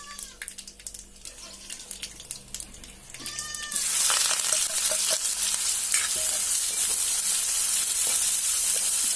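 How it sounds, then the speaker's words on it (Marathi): Onion and curry leaves hit hot oil with mustard and cumin seeds, starting with scattered crackles and stirring scrapes, then breaking into a loud, steady sizzle that fills the rest of the clip. "कांदा छान परतून घ्यायचा तेलामध्ये।"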